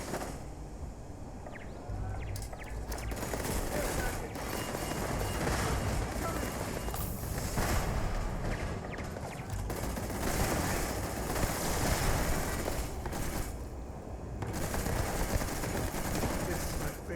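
Rapid gunfire in the space game Starfield, a continuous crackling stream of shots and bursts from mid-distance, steady throughout with occasional brief lulls, and a voice briefly speaking beneath it.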